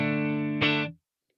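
Electric guitar through a Vox AC30 amp model on a Lekato TANK-G modeler: a single sustained, quiet chord with light effects that is cut off abruptly, close and clear with no talking.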